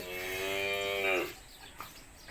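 A cow on a farm moos once, a long, loud, drawn-out low call nearby, followed by quiet background noise.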